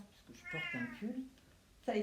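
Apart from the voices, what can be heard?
pet cat meowing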